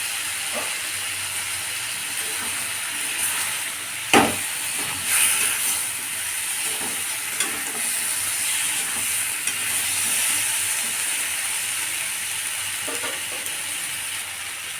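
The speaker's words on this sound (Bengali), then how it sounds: "এরপর এখানে আমি ভেজে রাখা পটলগুলো দিয়ে দিলাম।" Fried pointed gourds stirred in a frying pan, giving a steady sizzle and hiss with scattered scraping and clinking strokes from the utensil throughout.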